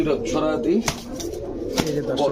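Domestic pigeons, including gola pigeons, coo in soft repeated phrases close by as someone talks over them.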